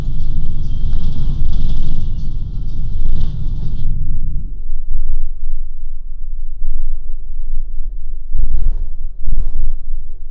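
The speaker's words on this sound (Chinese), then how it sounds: "或者这样吱嘎作响的公交车" Loud low rumble of a creaking city bus passing close by, heard during a test of Sony WH-1000XM5 noise-cancelling headphones, fading after a few seconds into quieter traffic noise with short louder surges.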